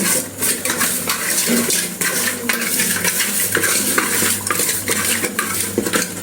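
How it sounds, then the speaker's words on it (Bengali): Rohu fish pieces being mixed by hand or spoon with chili powder and turmeric in a bowl, a steady close stirring and squelching with light clinks of utensils, continuous with no talking. "মরিচের গুঁড়া, পরিমাণ মতো এবং পরিমাণ মতো হলুদ দিয়ে এটাকে ঘেটে নিতে হবে"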